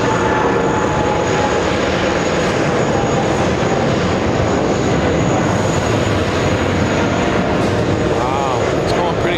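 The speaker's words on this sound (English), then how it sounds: "Speedbird, the 777, hear this." A Speedbird Boeing 777 jet passes fast at JFK, its loud, dense engine roar filling the whole stretch with little change and a high thin whine on top.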